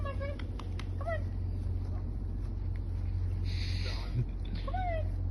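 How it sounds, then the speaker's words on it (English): Cats met along an outdoor walk give a few short, rising meows, spaced apart over a steady low background rumble. "Oh look, another cat."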